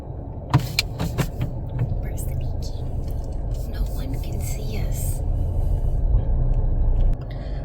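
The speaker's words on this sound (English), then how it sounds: "So we're gonna move the car" A car idles and rumbles steadily at close range while being moved to a new parking spot, with a few clicks and jangles and people talking quietly over it.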